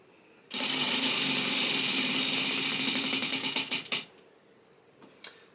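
A prize wheel spins with a loud, fast ratcheting clatter of ticks that gradually slows over about three and a half seconds, then stops, followed by a couple of faint stray clicks.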